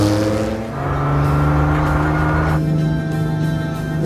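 Restored race car engine running close and loud, a steady rich tone that dips briefly then climbs in pitch, holding a strong even drone.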